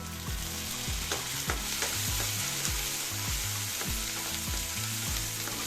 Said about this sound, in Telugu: ఇప్పుడు ఇవి వేగుతున్నాయి కదా ఇందులోనే నానబెట్టుకున్నా జీడిపప్పు వేసేసుకున్నాము